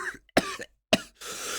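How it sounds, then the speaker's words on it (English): A short coughing fit in an audiobook reading: two sharp, harsh coughs spaced apart with brief breaths between, close and fairly loud, ending in a raspy breathy exhale. "A coughing fit brought him up short."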